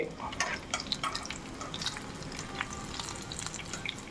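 Avoli (pomfret) fish frying in a pan, a steady close sizzle with crackling pops throughout at a fairly soft level.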